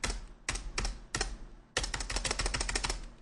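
Keystrokes on a computer keyboard clatter up close, first in a few separated bursts and then in a fast, dense run of typing, with no talking.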